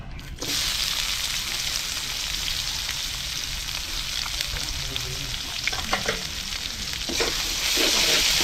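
Chopped onions frying in hot oil over a clay stove, a steady loud sizzle with occasional stirring scrapes, close up and continuous, swelling slightly near the end, no voices.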